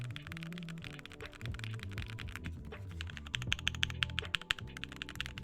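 A mechanical keyboard fitted with PBT keycaps is typed on at close range, giving a quick, uneven run of crisp clacks that grows denser and sharper toward the end, with no voices.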